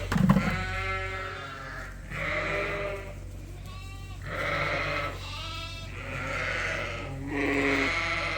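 Lambs bleating in a barn, several long wavering calls overlapping one after another, fairly close against a steady low hum, with no speech.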